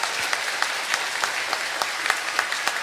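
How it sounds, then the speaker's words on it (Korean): A church congregation at a Catholic Sunday Mass claps together in steady, sustained applause, a dense patter of hands with a few sharper claps standing out, no voices on top. "우리 선생님들한테 감사의 박수 주시면"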